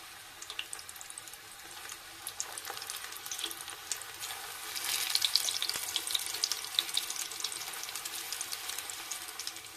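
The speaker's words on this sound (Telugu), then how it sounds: "నూనె వేడైంది. ఇప్పుడు ఈ పిండిని అయితే చిన్న చిన్న పకోడీలా వేసుకుందాం." Spinach pakoras frying in hot oil, a steady sizzling and bubbling that swells midway as more batter goes in, close by with no talk.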